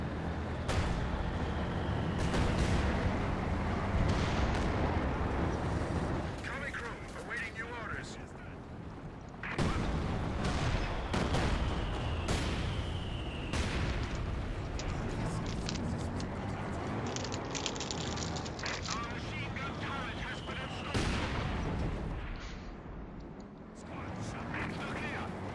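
Artillery and gunfire boom through a Company of Heroes 2 battle, with repeated heavy blasts and scattered shots over a constant rumble while a commentator talks over it throughout.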